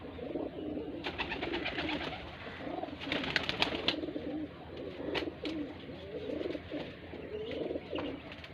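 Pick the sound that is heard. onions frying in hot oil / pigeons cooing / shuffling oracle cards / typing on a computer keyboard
pigeons cooing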